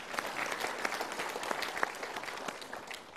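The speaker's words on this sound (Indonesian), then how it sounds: "Kita berikan tepuk tangan dulu." Audience applause in a seminar hall fills the whole stretch, a dense steady patter of many clapping hands at moderate volume with a few sharper individual claps standing out.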